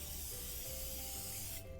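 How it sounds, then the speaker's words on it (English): A close, steady hiss of cooking spray coats a cake pan for about a second and a half, continuous and even, then cuts off abruptly near the end. "we wanna of course spray our pan so our cake actually comes out"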